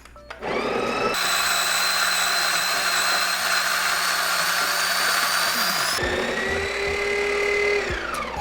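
A Breville Barista Pro grinds coffee beans into a portafilter with a loud, steady high-pitched whine for several seconds, a brief pitch change, then spinning down to silence.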